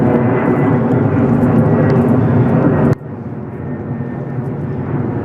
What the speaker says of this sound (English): We're close to the airport, so we got planes going by.